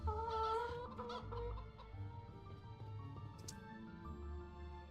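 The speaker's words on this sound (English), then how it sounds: "They launch bloody chickens. And have the loudest sound effect ever." Chickens clucking as a sound effect in the 3D metroidvania game Poppet Quest, a loud, close burst of clucks and squawks that then fades into a lower, softer clucking.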